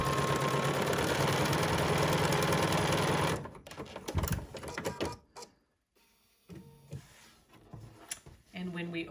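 A sewing machine stitches a wedding dress seam in a fast, steady whir for about three seconds, then stops, followed by quieter handling sounds and fabric rustling.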